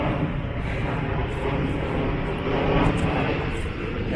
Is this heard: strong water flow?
no